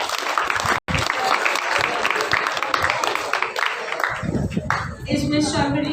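At a school festival, an audience breaks into applause to welcome a performer of Indian classical vocal music. The clapping is strong and continuous with a short break early on, and it gives way to voices near the end.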